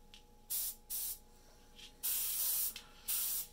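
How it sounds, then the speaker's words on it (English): Short bursts of airbrush spray hiss as paint goes onto a 1/48 scale model aircraft's tail, two quick puffs followed by two longer sustained blasts, close and fairly loud with brief pauses between. "So a little quick blast back here on the tail."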